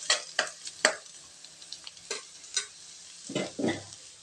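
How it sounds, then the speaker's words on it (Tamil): Onions sautéing in oil in a pan, a soft sizzle punctuated by sharp spatula scrapes and clatters, busier toward the end, with no talking. "வெங்காயம் நல்லா வதங்கிடுச்சுங்க"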